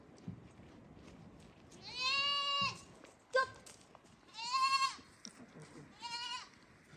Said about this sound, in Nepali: यो चाहिँ हाम्रो बाख्रा